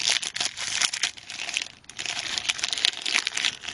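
A plastic bag crinkles and rustles up close as small pieces from a DeAgostini Hummer H1 model kit are handled on it. The crackling is steady and dense, with a brief lull midway and no voices.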